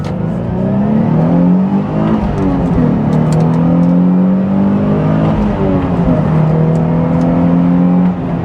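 A car engine running steadily while driving on an open road with no traffic, a loud continuous drone that rises and falls in pitch as the engine revs and shifts, with no talking.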